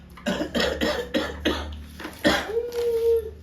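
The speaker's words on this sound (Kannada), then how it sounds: "ಕೆಮ್ಮುದು ತಾನೆ" A series of quick, harsh coughs, about six in a row, close and loud, followed by a brief vocal sound.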